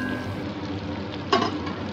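Onion and prawns fry in a pan before sliced pointed gourd goes in, a continuous moderate sizzle with one brief louder scrape or clatter partway through, no talking.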